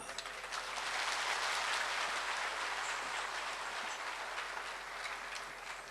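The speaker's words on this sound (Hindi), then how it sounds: "जोरदार तालियां" A large audience at a Kumbh festival stage performance in Haridwar claps loudly in a dense, sustained roar that swells early and slowly tapers, without speech.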